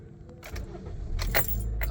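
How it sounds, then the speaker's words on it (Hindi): Keys jangle, then a Toyota Corolla 1.6 Altis with a misfire and ignition coil fault codes cranks and its engine catches. The engine settles into a low, close idle rumble. "अब मैंने गाड़ी स्टार्ट की है"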